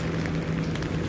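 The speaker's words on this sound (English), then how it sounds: "the rain is crazy today, guys." Heavy rain falls in London, a dense steady wash of drops spattering on surfaces, loud and constant throughout with no voices.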